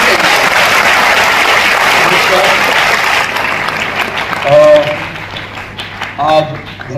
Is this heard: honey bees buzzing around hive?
no